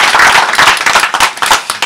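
Loud, close hand clapping from a small audience at an auto-cross event in Badefols d'Ans, quick uneven claps bunched into a short burst that lasts under two seconds.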